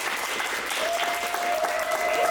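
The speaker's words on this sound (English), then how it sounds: "Let's give them all a big round of applause" Audience applause for staff and interpreters, dense steady clapping from a crowd close to the microphone, sustained throughout with a faint tonal whine running beneath it.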